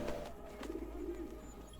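A pigeon in Assassin's Creed Brotherhood gives a soft, low cooing call, faint and close, repeating briefly over a quiet ambient hum.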